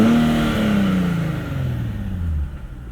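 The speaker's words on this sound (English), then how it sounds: "Actually, let's leave this open, get a few revs here." A 2020 Nissan 370Z NISMO engine revs up in neutral, then winds down in a steady falling drone that fades over a few seconds, close and fairly loud with no talk.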